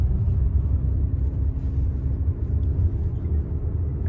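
A VW CC driving in gear as the clutch is fully released and the throttle eased on, giving a steady low engine drone and road rumble from inside the cabin, continuous and moderately loud.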